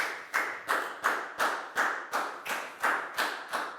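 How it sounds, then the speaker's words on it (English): A class of Year 4 students claps together in an even, rhythmic beat, about ten sharp unison claps in under four seconds, close and clear in a classroom. "a big round of applause for Prel,"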